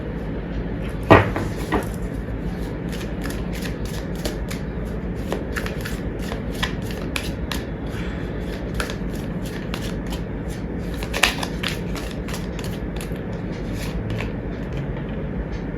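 Tarot cards are shuffled by hand in a steady run of soft riffling flicks and taps with a couple of sharper knocks, close and fairly quiet, with no talking.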